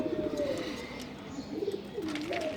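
Pigeons cooing close by, soft repeated throaty coos rising and falling over a quiet background, with no talking.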